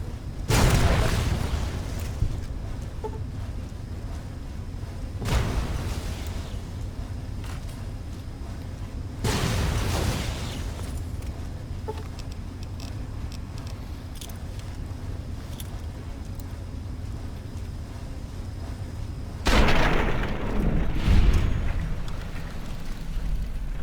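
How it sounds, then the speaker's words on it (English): Plasma grenades explode in the Fallout game Tale of Two Wastelands, Broken Steel, during a fight with Deathclaws: four separate loud, booming bursts spaced several seconds apart, each fading over a low rumble of background noise. "Throw a couple plasma grenades from cover."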